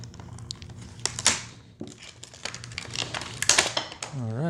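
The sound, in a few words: unpacking a Kizlyar Mole knife from its packaging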